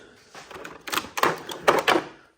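A Snap-on tool chest screwdriver drawer slides open with a run of metallic clatters and rattling clicks, close and moderately loud, ending abruptly.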